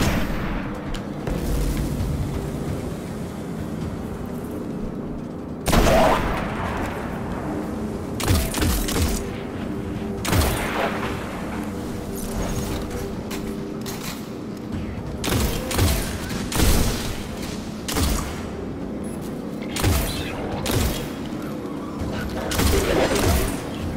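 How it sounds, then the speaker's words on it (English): Sniper rifle shots in the shooter game Destiny: The Taken King, heard as a string of sharp, loud cracks and booms at irregular intervals over a steady bed of in-game battle noise and rumble. "Let's test out the new sniper."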